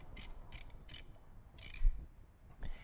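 A ratchet snugs spark plugs on a Victory motorcycle in a short run of close, crisp clicking bursts, four quick strokes with brief pauses between them and a faint final click.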